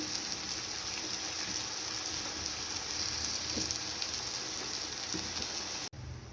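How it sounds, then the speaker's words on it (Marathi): Chopped onion frying in oil with turmeric powder for a quick tiffin vegetable dish, giving a steady, soft, even sizzle close by and without talk, with a brief dip near the end. "इथे कांदा छान परतलेला आहे"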